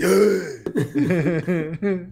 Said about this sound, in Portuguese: aquele pigarro matinal pode ser duro